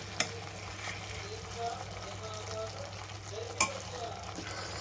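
A mixture with fried coconut being stirred in a pan on the stove, soft scraping strokes with a couple of sharp clinks against the pan over a low steady background hum.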